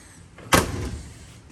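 A single solid door thump from a 1950 Ford F1 pickup, close and short, followed by a brief rattle fading into quiet.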